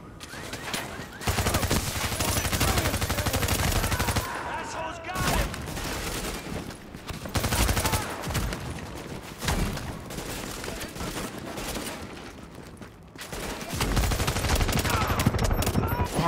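Enemy shotgun and gunfire in a shooter video game, with loud repeated bursts of shots and mechanical clatter over several seconds, broken by brief lulls, with game voices faintly underneath.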